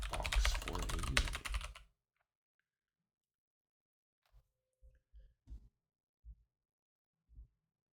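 Fingers type rapidly on a computer keyboard for about two seconds, entering text into a login page, then fall silent apart from a few scattered, separate key clicks.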